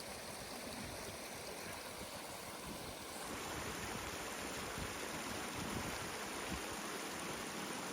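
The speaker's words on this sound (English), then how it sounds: "here's a good shot of the waterfalls" A pond waterfall splashes during an arctic snowstorm, a steady broadband rush of falling water that runs loud and continuous throughout, with no voices.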